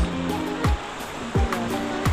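A fast, swollen river current after several days of rain at a riverside camp resort in Tanauan, Real Quezon, rushing as a steady loud wash, with a few low thumps breaking through the continuous roar.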